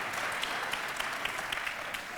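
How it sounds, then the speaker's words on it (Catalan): A theater audience at a comedy stage show claps steadily, a soft, fairly distant patter of many hands with no one speaking over it. "No aplaudiu, sisplau."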